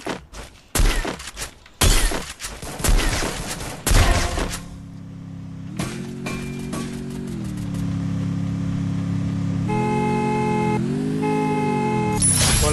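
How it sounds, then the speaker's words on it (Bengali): Sniper rifle fire in the Free Fire video game: a string of loud sharp shots with ringing decay, then a sustained engine-like drone that rises in pitch. "স্নাইপার চালাইতেছে।"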